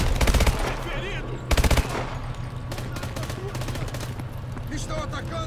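Submachine gun fire in the video game Call of Duty: Advanced Warfare comes in two short, loud automatic bursts, followed by scattered distant shots and combat effects.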